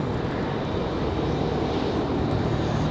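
Airliner departing Raleigh-Durham International, a steady broadband engine roar holding loud and close throughout with no talk.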